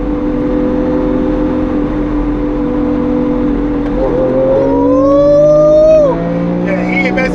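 A Lamborghini Aventador accelerates hard while racing a Tesla Model 3: a loud, close engine note climbs in pitch, dips sharply at a gear change, then climbs again and cuts off, with voices in the background.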